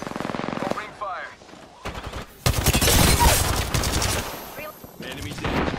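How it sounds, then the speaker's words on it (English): Bursts of automatic gunfire in the video game Apex, loud and rapid, with a voice speaking before and between the shots. "Opening fire."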